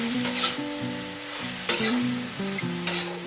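Bitter gourd and pumpkin frying in a pan, a steady close sizzle with periodic stirring scrapes and a faint musical tone running underneath, no voices.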